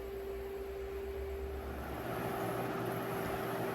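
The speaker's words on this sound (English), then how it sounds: "Sorry about the noisy fan" Electric fan running nearby indoors, a steady broadband whoosh with a constant hum tone, getting slightly louder partway through, with no voices.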